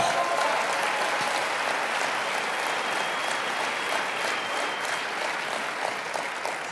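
An audience applauds at a motivational speaking event, a steady, dense wash of clapping from a large crowd throughout, fairly loud and even, with no voices standing out.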